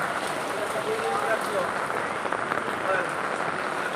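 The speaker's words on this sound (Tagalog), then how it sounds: "tuloy-tuloy na ang ulan." Steady heavy rain hissing on surfaces, dense and continuous, with voices talking faintly over it, on flooded streets in Barangay Pio del Pilar, Makati, Philippines.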